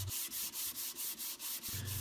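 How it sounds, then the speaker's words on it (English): Hand sanding of a solid cherry wood bookcase, going down to about 220 grit: steady rhythmic back-and-forth rubbing strokes, close and fairly quiet, about nine passes with no talking. "So I give the entire project a hand sanding down to about 220 grit."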